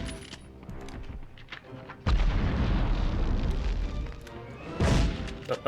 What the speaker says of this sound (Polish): To była wybuchająca skrzynia